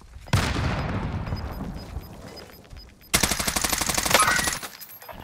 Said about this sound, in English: Shooting from the right.